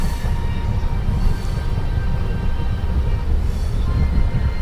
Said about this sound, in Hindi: ट्रेन तो जैसलमेर से चल चुकी है